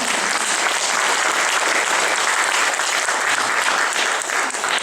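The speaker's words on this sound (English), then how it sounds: "Give yourselves a round of applause." A full room claps steadily and loudly at a gathering, a dense wash of applause that holds at an even level throughout with no talk over it.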